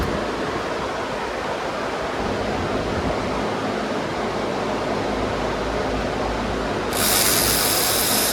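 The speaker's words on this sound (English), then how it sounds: "with a 13mm, remove your water pump bolts" Close, harsh mechanical clatter of a ratchet with a 13mm socket loosening water pump bolts on a 4.0L Jeep Wrangler TJ, a dense steady texture that gets louder near the end, with no voices.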